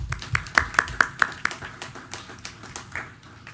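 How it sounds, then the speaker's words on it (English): A small group claps for award recipients at a school board meeting, sparse distinct claps in an irregular rhythm that soon thin to scattered, quieter taps, fairly close in a room. "let's give these recipients a well-deserved round of applause"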